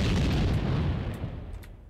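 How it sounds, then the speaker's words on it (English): A building blows up in the video game Max Payne 2, a dense, loud roaring rumble that fills the scene and slowly tapers off over a couple of seconds, with no voices over it. "The building's blowing up."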